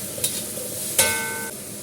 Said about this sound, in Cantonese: 唔起鑊，兜一兜啲西蘭花，兜一兜佢得㗎啦